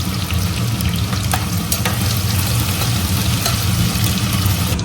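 Bay leaf, whole spices and ginger-garlic frying in hot oil, giving a loud, dense, continuous sizzle with a few light clinks of stirring; no one talks.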